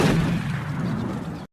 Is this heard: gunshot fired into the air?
yes